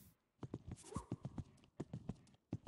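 Horse hooves clip-clopping in a steady, regular rhythm in an equestrian riding game, close and moderately loud with no talking over them.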